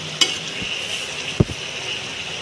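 Tomatoes cook in hot oil in a pan while pickle is being made, giving a low, steady frying hiss with a couple of brief clatters, like a utensil stirring or knocking the pan.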